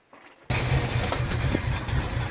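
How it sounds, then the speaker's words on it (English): A car engine idles very low with no ignition advance at idle, starting up after a brief quiet moment and then running as a steady, close, even rumble. "it's idling real low because I don't have any advance at idle"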